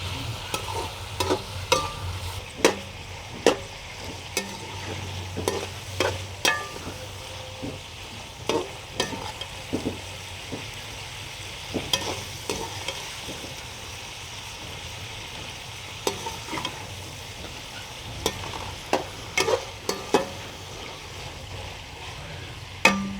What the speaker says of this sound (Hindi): और अभी इसे अच्छी तरह से फ्राई करेंगे।